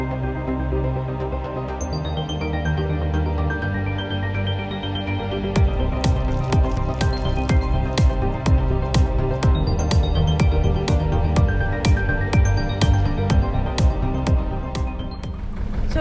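Water from a hose runs steadily into a narrowboat's tank at a canal water point, a constant rushing wash with a gurgling, rising fill and rapid clinking ticks through the latter half; no talking.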